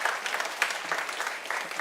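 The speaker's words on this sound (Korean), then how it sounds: "오늘 오신 부모님들께 환영의 박수를 드리도록 하겠습니다." An audience at a Korean church high school worship service claps to welcome visiting parents. The short burst of applause is moderately loud, with a little faint crowd noise.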